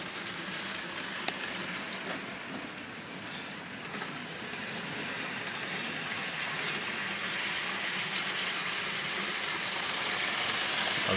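Hornby Class 66 model locomotive hauling a rake of model railroad wagons, giving a steady, close whirring rumble with a faint track hiss that builds slightly louder toward the end, with no talking.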